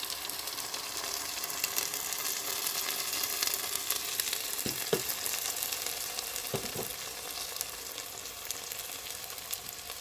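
Greens, following onions, hit a hot frying pan for shrimp fried rice, producing a steady close sizzle throughout with a couple of brief clanks of a utensil against the pan, and no talk.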